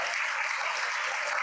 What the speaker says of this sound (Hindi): तालियां बजाना अच्छा लग रहा लेकिन चौका लगाए कौन माता जी?